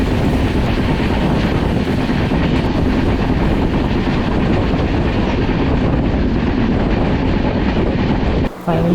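A passenger train on the Howrah to Digha line rumbles through a curve, a loud and steady roar of wheels and wind heard from on board, continuous for several seconds with a brief dropout near the end.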